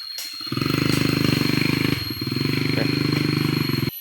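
Small motorcycle engine powering a scrap-built winch for hauling timber, a loud, rapid, pulsing putter that revs steadily, dips briefly midway, then resumes its chugging beat close by.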